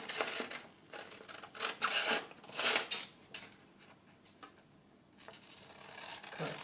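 New scissors snip and slide through fabric along marked lines in short bursts, with quiet pauses between cuts, close by and fairly faint.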